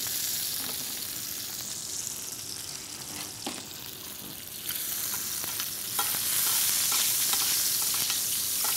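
Eel fries in asparagus butter with a bright, close sizzle and occasional stirring scrapes, the hiss swelling louder toward the end.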